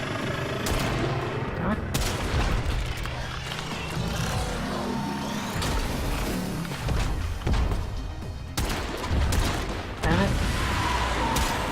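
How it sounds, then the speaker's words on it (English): Dense, continuous Warframe weapon fire with repeated sharp bursts and crashes over busy game noise, while a player curses under the shooting. "Screwing up my shots, wasting ammo."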